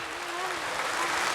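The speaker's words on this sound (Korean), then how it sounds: "여러분 축하의 박수 네. 부탁드립니다." Studio audience applause at a 1983 KBS television broadcast reuniting separated families, a steady, dense wash of clapping that fills the whole moment, with a voice faintly over it.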